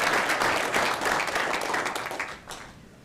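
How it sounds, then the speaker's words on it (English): A board meeting audience claps in a dense, sustained round of applause that stays strong for a couple of seconds, then thins and fades out. "Let's give him another round of applause."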